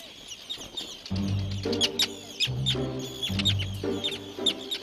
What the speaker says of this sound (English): The terns decide to settle here.